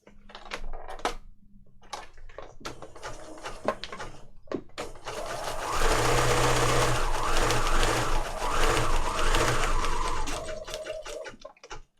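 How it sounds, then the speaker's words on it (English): A sewing machine runs in bursts, its needle clattering rapidly through stiff paper, with short pauses and handling clicks between runs. "If you're curious about sewing with your sewing machine on paper"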